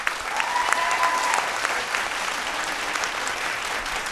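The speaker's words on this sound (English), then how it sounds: "Round of applause for our 3rd resident judge" Studio audience at a vocal battle TV show applauds a resident judge, a steady dense wash of clapping close and loud throughout, with a brief tonal whistle-like note early on.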